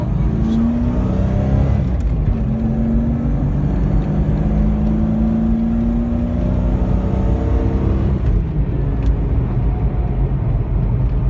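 Jeep Cherokee Sport with a 4.6 stroker engine on 37-inch tires accelerating hard, a loud close engine roar climbing steadily in pitch, dropping briefly at a shift and climbing again, continuous for the whole stretch.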